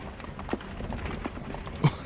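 In Assassin's Creed III, a horse's hooves clip-clop at a walking pace, soft and a little distant, with faint background ambience.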